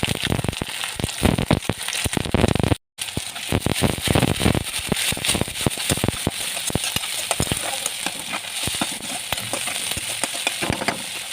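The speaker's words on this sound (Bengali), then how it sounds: "হালকা ভাজা হলে এতে চিংড়ি মাছ দিয়ে চিংড়ি মাছ" Prawns frying in hot, reddened oil in a kadai, a loud, continuous sizzle and crackle with sharp spitting pops running throughout, broken by one brief pause.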